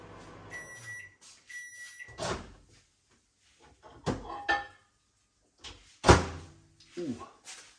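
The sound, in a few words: microwave oven ding as chips finish cooking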